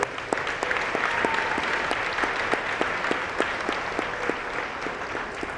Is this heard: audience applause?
yes